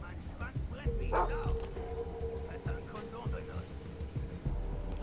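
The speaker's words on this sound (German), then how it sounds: "Ich höre Hunde." Dogs bark and yip in the open-world shooter Far Cry 3, a few short barks and whimpers at mid distance mixed with game ambience, while someone talks over them.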